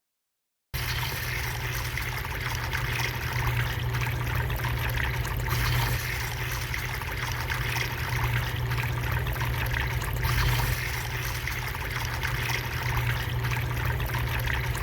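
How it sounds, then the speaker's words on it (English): Water pours steadily into a model pyramid chamber in a fluid-dynamics demonstration, a continuous, dense, close trickling stream that runs unbroken and fairly loud throughout. "now that the initial water filling process has been demonstrated"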